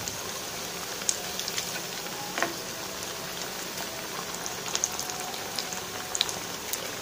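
A stuffed evening snack deep-frying in hot oil gives a soft, steady crackling bubble, fairly quiet and close, with scattered small pops and no talking.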